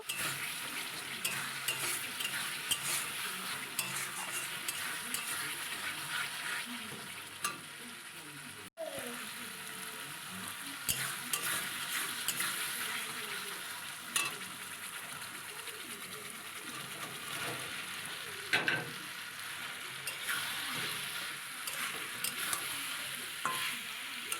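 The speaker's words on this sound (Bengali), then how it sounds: "একটু জল দিয়ে মশলাটাকে আর একটু কষিয়ে নেব" Spice masala with chopped tomato and a splash of water sautéed in a pan, a continuous soft sizzle with frequent scraping stirs and ladle taps throughout, faint speech heard now and then.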